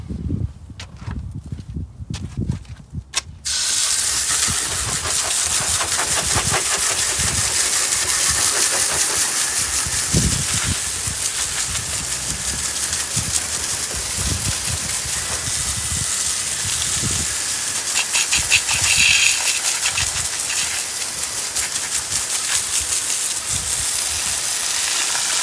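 Steady, loud hissing water spray rinses down a 2019 Dodge Challenger SXT, running almost continuously for over twenty seconds after a few brief knocks and footsteps at the start.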